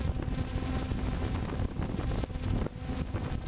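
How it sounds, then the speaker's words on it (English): Strong wind gusts roar and buffet the microphone outdoors, a steady rushing blast with a few brief drops, loud and continuous. "it's very windy outside"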